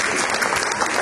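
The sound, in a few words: applause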